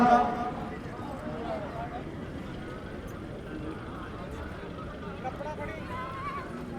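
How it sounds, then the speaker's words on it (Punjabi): A 70-inch Padam horse at the Talwandi fair neighs amid the clip-clop of hooves, with constant crowd chatter and nearby voices talking over it. "ਘੋੜਾ ਆ ਗਿਆ ਸਵਰਨੇ ਵਾਲਾ"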